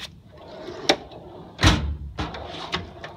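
A drawer on a Matco 5s toolbox slides open with a few short metallic clunks and one sharper thump partway through, close and moderately loud, with no talking.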